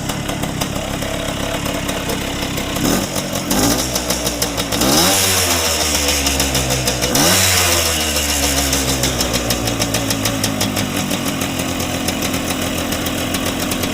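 A vintage Hodaka motorcycle engine with a new ignition runs steadily for the full stretch, loud and close, with two revving swells in the middle before it settles back into an even, buzzy idle.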